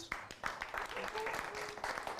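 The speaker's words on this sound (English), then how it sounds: "a round of applause." Studio audience applauding at the close of a TV show, a steady wash of clapping lasting a couple of seconds at moderate loudness, with some voice mixed in.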